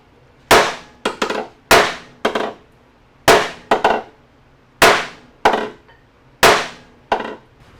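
Hard hammer strikes on sheet metal beside a Honda Civic EF engine pulley, arriving in uneven pairs and singles, each a sharp close crack with a quick fade. No one speaks.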